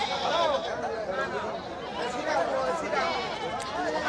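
Goats of various sizes bleat repeatedly at a large rural goat market, the wavering cries overlapping amid the steady chatter of a crowd close by.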